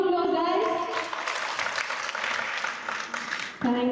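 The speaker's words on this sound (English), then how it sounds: "A huge round of applause, guys." Close, steady applause fills a live award ceremony for about three and a half seconds before it cuts off, and a voice begins speaking at the very end.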